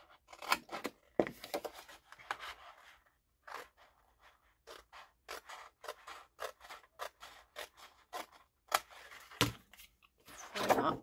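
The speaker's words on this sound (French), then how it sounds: "On va découper dans le bord." Scissors snip through paper along an edge in a quick, irregular series of close, crisp cuts, with short pauses between bursts and a dense flurry at the start and end.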